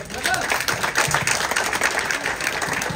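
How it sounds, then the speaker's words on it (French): An audience applauds the jury at the finale of a breakfast and brunch competition, with dense, steady clapping filling the room while a voice talks over it. "On applaudit ce jury"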